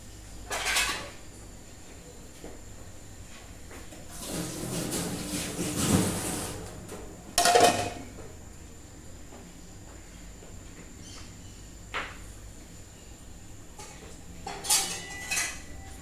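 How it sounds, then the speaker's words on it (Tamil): Several metallic clanks and clatters of a lid being placed on a cooking pot of prawn curry, with a couple of louder bangs amid quiet kitchen background. "ஆனை கொதிக்க மூடியை போட்டுருவோம்."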